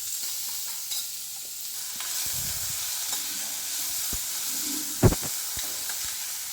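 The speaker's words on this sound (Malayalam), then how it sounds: "അതിനകത്തേക്ക് ഉള്ളിയും ഇഞ്ചിയും കൂടി ഇട്ട് കൊടുക്കുക. അത് ഇനി നന്നായിട്ട് ഇളക്കി കൊടുക്കുക." Onion and ginger sizzle in hot oil as a spoon stirs them through the pan. A steady hiss carries under occasional scrapes and one sharp clack of the utensil, all close by, with no talking.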